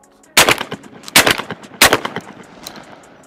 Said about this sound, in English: So just fire off a few shots,